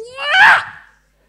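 A single sharp, rising vocal yell imitating a Bruce Lee martial arts cry, about a second long, close and loud, then fading out to silence.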